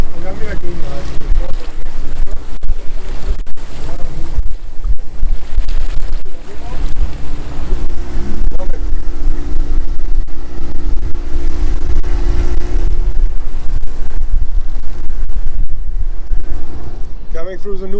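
Strong wind buffets the microphone over water sloshing against an Ericson 27 sailboat under sail near the Newport Bridge, with occasional knocks and faint voices in the background.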